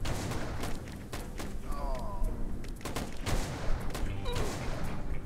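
Rapid gunfire in the Western mobile game King of the West, repeated sharp shots in quick bursts with ricochet-like whistles, close and loud, while someone talks over it.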